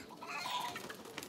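Chickens clucking at a busy market, with soft, short fowl calls that come close together and stay faint and close, with no voices.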